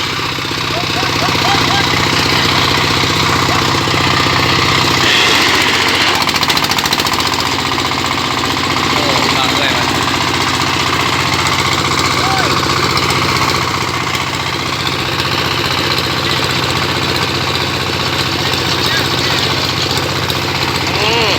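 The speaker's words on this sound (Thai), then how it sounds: "เร่งเครื่องแล้วพี่น้องเนาะ ที่ปั่นเขาเนาะ" A rice threshing machine engine drones steadily and loudly throughout, with a brief rise in intensity early on and faint voices under the mechanical noise, in a field in Pakse, Laos.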